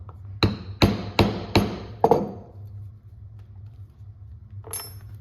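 A stitching chisel is struck through leather resting on a cutting board, five sharp, close hammer blows in a quick even rhythm, followed by quiet and a brief light rattle.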